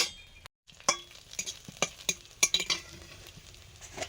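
Washed neem leaves are stirred in a pan as their water dries off before oil goes in, a soft sizzle under scattered utensil clinks and scrapes that arrive in short irregular bursts.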